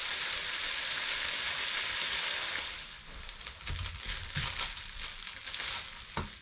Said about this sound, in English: in the wok with some oil and my spice, and yeah, fry up the chicken.